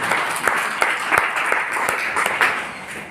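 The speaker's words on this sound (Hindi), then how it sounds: "ताली बजा दीजिए एक बार" An audience at a meeting applauds for about three seconds, a dense, steady wash of many hands clapping close by with no talk over it.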